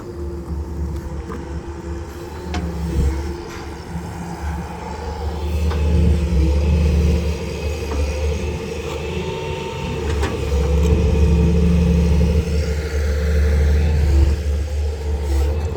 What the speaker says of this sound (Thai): ดินเปียกครับ รถไถดันก็ไม่ได้ครับ